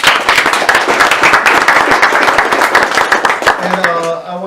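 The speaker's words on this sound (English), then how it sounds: "I want to give these guys a big round of applause" Audience at a tech meetup on chat-based commerce claps loudly and steadily for the speakers, a dense crowd of hands that tapers off near the end as a voice begins over it.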